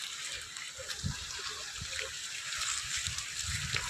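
Borewell water gushes out steadily at a drilled site in a rural aquifer zone near Mosangi, Gurrampodu, making a constant hissing rush with a few low thumps beneath it and no talk.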